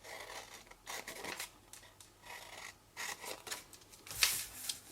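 Scissors snipping straight up the score lines in a piece of card, a series of close, crisp cuts with short rasping strokes and pauses between them.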